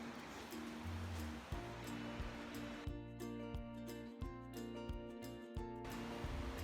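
Clean water pours steadily into a bucket with a continuous rushing splash, about 12 to 13 liters filled while making liquid hand soap, with a few faint knocks in the background.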